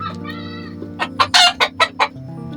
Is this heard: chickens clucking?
yes